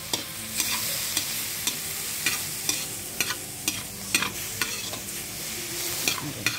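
Pork fat sizzles and crackles in a frying pan as its oil renders out, a soft steady hiss broken by regular stirring scrapes and small pops.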